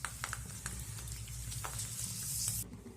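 Homemade flour papad frying in hot oil, a soft steady sizzle with faint crackles and a few light clinks, fairly quiet and without voices.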